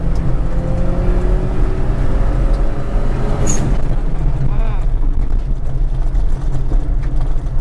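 A manual-transmission Daihatsu Mira pickup engine drones loudly and continuously while driving, with a steady low rumble and road noise, as a person talks over it.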